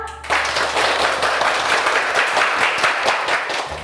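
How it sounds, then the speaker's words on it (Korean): Group applause from an audience at a gathering of tutoring teachers, steady dense clapping that begins sharply and fills the whole clip. "박수 한번 크게 한번 칠까요?"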